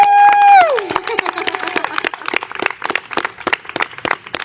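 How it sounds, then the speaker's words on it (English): A crowd at an outdoor park event claps and cheers for parks workers, the applause rising after a sustained tone fades and continuing in dense, uneven bursts with scattered voices mixed in. "can we have a round of applause for the incredible parks workers that we have joining us here today?"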